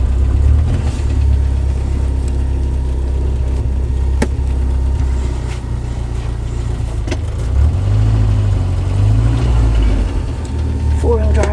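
A 1990 Jeep Wrangler engine idling after a cold start, a loud steady low rumble close by with a brief rise in revs toward the middle, with some talk.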